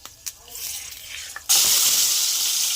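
Fish fat rubbed with salt and turmeric hits hot oil already tempered with dried red chillies and five-spice seeds, setting off a sudden loud, steady sizzle after a few quieter crackles.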